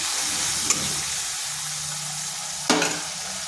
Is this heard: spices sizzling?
yes